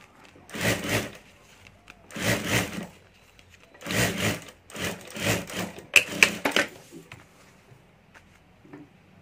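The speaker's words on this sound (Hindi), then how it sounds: "यहाँ भी ऊपर एक सिलाई कर देता हूँ मैं" A sewing machine stitches a ladies' wallet in several short, even bursts of needle clatter with brief pauses between them, close by and fairly loud.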